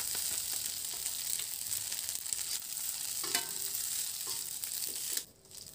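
Rice vermicelli noodles being stirred as they fry in a pan, a continuous close sizzle with scraping stir strokes, ending in a sudden drop to quieter hiss.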